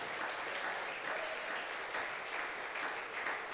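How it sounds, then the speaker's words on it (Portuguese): A church congregation applauds during a worship service in steady, continuous clapping from a crowd that holds an even level throughout. "Aplauda Jesus, igreja."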